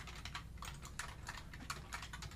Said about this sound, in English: So just try to follow along with what I'm typing here.